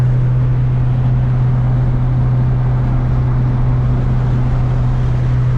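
A JDM front-end Honda Integra DC2 drives on the road, its engine a steady low drone under constant road and wind noise, heard from inside the car with no voices.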